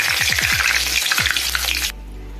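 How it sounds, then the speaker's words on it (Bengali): A bay leaf splutters in hot oil in a wok just after prawns were fried, making a loud close crackling sizzle with a few low bubbling pops. It cuts off sharply near the end, leaving only a low hum. "এবার তেজপাতাটা ফুটে এসছে"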